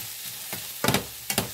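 Vegetables sautéing in a pan sizzle softly, with a few sharp stirring bursts of spatter and scraping breaking up a quiet background hiss.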